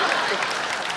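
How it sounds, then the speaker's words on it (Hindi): Studio audience applause on The Kapil Sharma Show, a brief, dense burst of many hands clapping at a steady loudness. "अच्छा, तालियां।"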